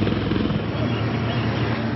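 An Indian Army Dhruv advanced light helicopter, a twin-engine 5.5-tonne machine, flies with a steady, loud rotor and engine roar that stays even throughout the short stretch.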